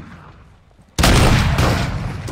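A loud, sharp gunshot blast from a video game shooter erupts after a quiet lull, its roar sustained and echoing for over a second.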